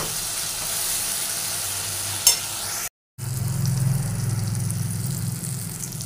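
Spice masala stirred and fried in oil for a rohu and katla fish curry gives a steady, close sizzle, broken by one brief clink and a short gap, with no talking.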